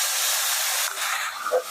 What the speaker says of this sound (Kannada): ಈಗ ಆದಮೇಲೆ ಟೊಮೆಟೊ ಹಾಕ್ತೀನಿ